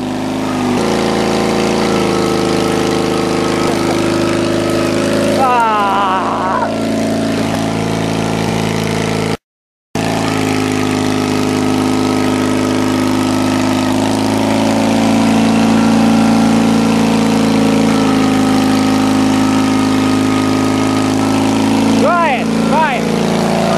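An orange tractor's engine runs steadily while stuck in mud, a droning idle with brief revving swells, heard close alongside people talking; the sound cuts out for a moment midway.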